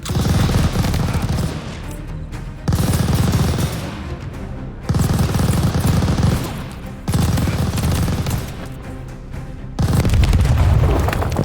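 Tower-mounted machine gun firing in the Call of Duty: Vanguard video game, loud sustained bursts of heavy gunfire with booming impacts, coming in repeated waves separated by short drops.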